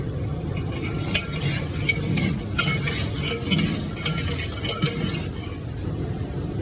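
A spoon stirs korma gravy in a hot pot, the cooking made in bulk for about twenty people, producing continuous bubbling, sizzling and thick churning with scattered light clinks of the utensil against the metal, with no talking.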